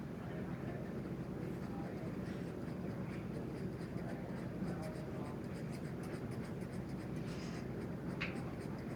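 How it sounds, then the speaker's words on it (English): Continuous scratchy strokes of an ink pen cross-hatching on paper, close and even, a dense steady rasp with faint background hum and no pauses. "We're just going to go hatching like we did above, right here, in one direction."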